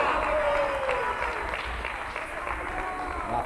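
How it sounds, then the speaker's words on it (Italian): Applause from an audience at a youth football tournament award ceremony in Parma, a steady wash of clapping and crowd noise heard throughout, with a presenter's voice carrying over it. "Bravo Flavio, un applauso anche per lui"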